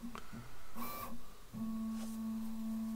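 Prusa Core One 3D printer calibrating its X motor with an accelerometer attached, giving short stepper-motor whirs and tonal buzzes, then a sustained steady hum; close and moderately quiet.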